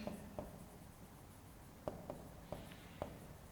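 Pen on paper, handwriting a flow chart during exam answer practice: faint, close scratches and several sharp taps of the pen stroking and lifting at an irregular pace, with quiet room tone and no talk.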